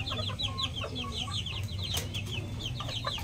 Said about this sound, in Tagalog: Ito ang ating mga pulet. White Kelso.